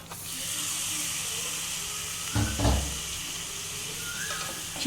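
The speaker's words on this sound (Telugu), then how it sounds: "ఇప్పుడు ఇందులో చికెన్ వేసేస్తున్నాను నేను." Chicken goes into a hot pan for chicken handi with a steady hiss and steam, then a short burst of louder sizzling and clatter, settling back to a continuous close sizzle.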